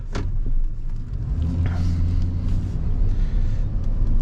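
A 2000 Chevy Silverado 1500 pickup with 44,000 original miles drives along, its engine giving a steady, close low rumble with road noise and slight swells of revving throughout.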